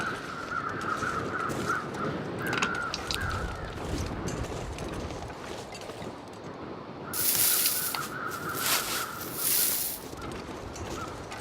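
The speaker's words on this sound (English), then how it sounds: "where are those crows at?" Crows caw in the wilderness of the survival video game The Long Dark, with a few harsh calls rising over steady wind-like ambience, including louder bursts near the end.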